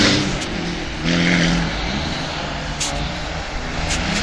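Sébastien's small car races past fast, a steady loud engine drone with a brief swell as it passes nearby, no talking over it.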